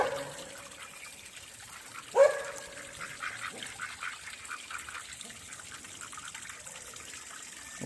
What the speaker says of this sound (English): Old quacky ducks.